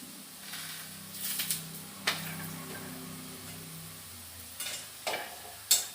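Soft sizzling of bitter gourd palya frying in a pan, with a few sharp stirring scrapes and spatula clacks, quiet and close with no talking.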